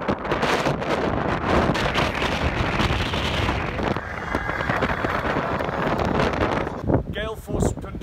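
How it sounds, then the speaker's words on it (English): Gale-force wind on the Sani Pass mountain road roars steadily and loudly across the microphone, a constant rushing buffet that drowns out everything, with a voice faintly under it. "I reckon this wind is easily about 80,"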